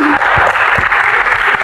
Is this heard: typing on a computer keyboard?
no